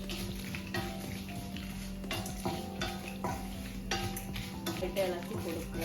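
A spoon stirs moru rasam (buttermilk rasam) in a pot over a faint sizzle, making repeated scraping and clinking strokes at an uneven rhythm, close and fairly quiet.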